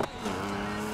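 A tuned classic car driving in NFS Heat, a steady engine drone with layered harmonic tones following a brief sharp click at the start, sustained and moderately loud for about a second.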